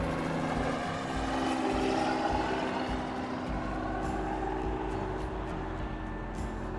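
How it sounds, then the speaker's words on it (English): A tour helicopter lifting off at a helicopter tour site on Highway 66 in Sevierville, Tennessee, giving a steady, loud rotor and engine roar that holds throughout with no talk. "We are at My Flight Helicopter Tours. As a matter of fact, there's one taking off right now."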